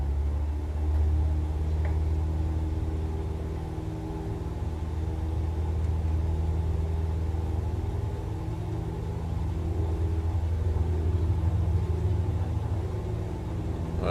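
An aircraft engine at full throttle during takeoff in Microsoft Flight Simulator 2020, a steady, continuous low rumble and drone held for the whole stretch with no talk.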